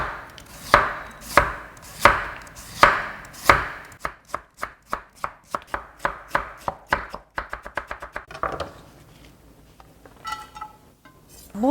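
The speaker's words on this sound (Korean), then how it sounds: "자, 이제 무채는 그대로 썰고요" A knife chops radish into julienne strips on a cutting board, starting with slow separate strikes and then speeding into a fast, even run of close, crisp taps before tapering off.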